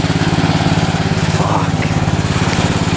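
A lawn tractor mows grass in mid-October, its engine a loud, steady drone with a fast rhythmic pulse, running close and alone throughout.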